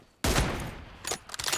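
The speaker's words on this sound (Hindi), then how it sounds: "ये गोली खुद क्यों चल गई?" A burst of gunfire from the PUBG battle royale game, a loud sustained shot erupting after a quiet moment, followed by two or three quicker sharp shots near the end, with no talking.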